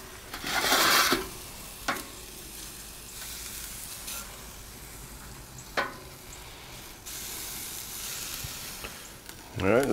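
Wagyu filets sizzling on an SNS travel kettle grill after a flip, a steady low frying hiss with a few brief louder scrapes and bursts near the start and end.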